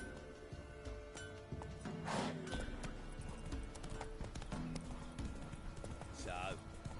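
Roach the horse gallops in The Witcher 3, with fast rhythmic hoofbeats pounding steadily throughout. A short whinny rises midway and another near the end over the game's background sound.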